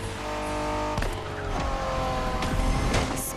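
Honda NSX sports car in The Crew Motorfest racing game: a steady engine drone holds throughout, with brief tyre squeals and shifting accents layered over it, loud and close.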